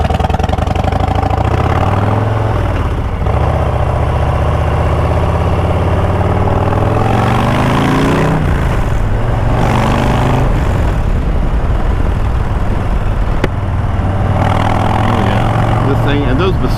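A Harley-Davidson Low Rider ST's deep exhaust rumble through Bassani 2-into-2 pipes runs continuously and loudly, rising and falling with throttle changes while someone talks over it.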